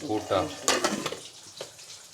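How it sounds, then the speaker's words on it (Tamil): Curry sizzles and crackles as it fries in a hot pan, with a few stirring scrapes, while a person talks over it close by. "கறி பொரிச்சிட்ருக்கேன்"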